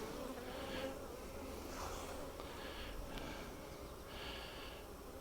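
Honey bees swarm and buzz in a low, steady drone around an open hive during a honey harvest, faint and continuous for several seconds, with a few louder passes as single bees fly near.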